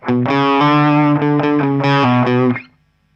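A distorted electric guitar plays the short, choppy riff of a song, repeated notes loud and buzzy, then cuts off and rings out briefly.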